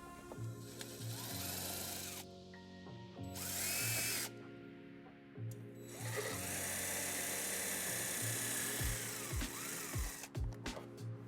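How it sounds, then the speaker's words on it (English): A power drill bores two holes into a ledge above the tailpipe of a 2007 Hyundai Tucson, its motor whining in long close bursts that rise and stop, with brief pauses and a few clicks at the end. "We're going to drill 2 holes so we can put a zip tie there and secure the wire."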